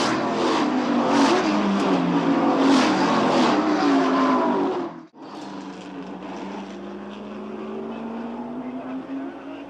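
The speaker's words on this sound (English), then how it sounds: "Lots of cars, racing wheel to wheel." Race cars in a karting Grand Prix roar past wheel to wheel, loud engine revving from a pack that briefly fades, then a rising engine drone builds again as the field continues.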